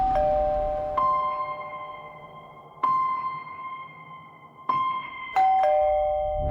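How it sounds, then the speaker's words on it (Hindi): An electronic doorbell chimes repeatedly, each ding-dong ringing out clearly and fading before the next press, with no voices. "घर की घंटी बजाई थी"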